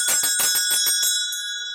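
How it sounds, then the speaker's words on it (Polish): Small cast bells made for a horse carriage jingle close and bright, several rapid rings in a quick run with a sustained metallic ringing that fades slowly, with no voices over them. "takie użytkowe rzeczy, jak tutaj właśnie dzwonki na powóz, do konia."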